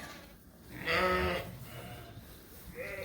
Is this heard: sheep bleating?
yes